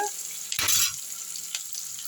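Onions fry in a tempering for semiya upma, a soft steady sizzle with a brief louder burst of stirring near the middle.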